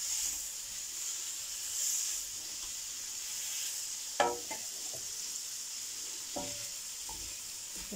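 Sausages sizzle in a pan on a home stove, a steady faint frying hiss broken by a few sharp scrapes and clatters of stirring around the middle.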